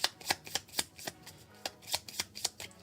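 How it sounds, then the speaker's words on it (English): Cards from the Star Trek: Captains Chair board game are shuffled by hand, giving a run of crisp, rhythmic riffling bursts close up at a low level, with no talking. "These get shuffled."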